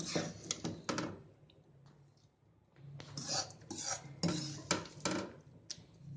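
A spoon stirs roasted flour into ground cashews, almonds, coconut, flax seeds and fox nuts in a metal bowl, giving close, faint scraping and clinking in uneven bursts with quiet pauses between them.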